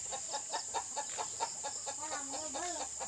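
A chicken clucks in a quick run of short, close bursts, followed by a brief warbling call, over a steady high-pitched hum.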